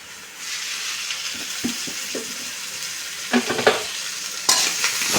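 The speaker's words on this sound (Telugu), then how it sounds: "బెండకాయలు వేయించుకోవాలి నూనె వేసుకొని వేయించుకోవాలి" Sliced okra frying in oil for a masala curry, a steady close sizzle with intermittent scraping and clinking as a utensil stirs through the pan, louder stirring bursts toward the end, no voices.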